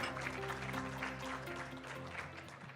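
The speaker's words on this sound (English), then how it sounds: "please give them one more round of applause" A forum audience gives a round of applause, steady clapping filling the room alongside a sustained tonal hum or music underneath, moderately loud throughout.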